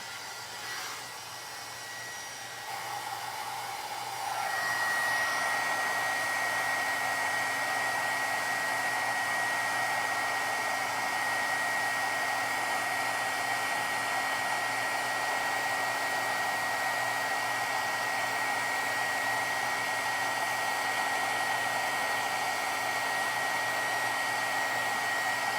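Heat embossing tool blowing steadily over embossed powder on a handmade Christmas card, a continuous hair-dryer-like whoosh with a fan whine that starts softly and steps up louder after a few seconds, running alone without speech.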